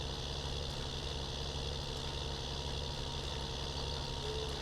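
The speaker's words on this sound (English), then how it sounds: "This tractor is definitely a little underpowered" Farming Simulator 19 tractor pulling a baler drones steadily at a low, constant level, a faint continuous engine hum with no breaks or changes in pitch.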